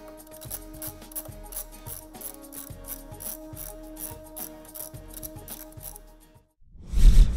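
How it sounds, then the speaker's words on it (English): A ratchet wrench clicks in quick, steady bursts while removing the nuts from the air strut top mount of a Mercedes-Benz W220 with Airmatic and 4MATIC, set against a faint background hum and ending in a louder clunk. "Remove the three nuts holding the top mount to the strut."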